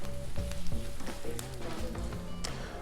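Chorizo and al pastor pork sizzling and frying on a Blackstone griddle, a steady close crackle with scraping spatula taps and bursts of sputtering throughout, no voices.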